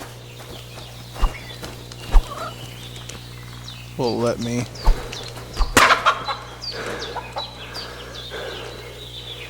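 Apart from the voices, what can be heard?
chickens clucking in the video game Kingdom Come: Deliverance II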